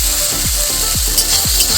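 Elephant apple frying and being stirred in mustard oil, a steady close sizzle broken by four or five scraping stirs at a regular pace.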